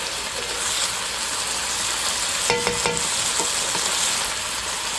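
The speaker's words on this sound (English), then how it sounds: "So now I'm going to mix everything together" Chicken taco filling stirred in a frying pan, a continuous close sizzle with a few soft scraping stir strokes and light clinks partway through.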